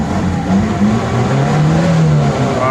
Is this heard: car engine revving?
yes